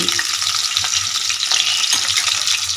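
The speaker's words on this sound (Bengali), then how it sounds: "মাছের তেলের চচ্চড়িটা বসিয়ে দিয়েছি" A Bengali fish-oil chorchori with potatoes cooking in a pan without added water, giving a loud, continuous, close hiss of sizzling oil with faint stirring underneath.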